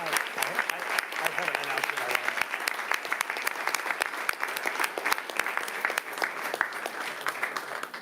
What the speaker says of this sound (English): let's give a big round of applause for all our student athletes